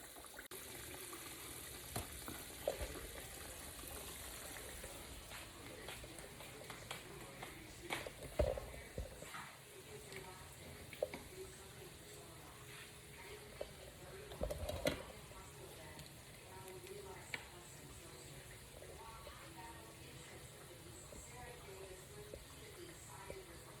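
Quiet, steady sizzling of food frying in oil, with occasional clinks and stirring noises scattered throughout.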